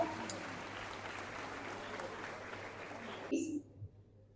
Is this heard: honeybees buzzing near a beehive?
no